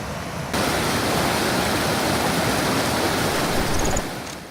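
A waterfall along the Torean hiking trail on Mount Rinjani pours with a steady, loud broadband roar that fades in after a brief quiet start and tapers off near the end, with no voices.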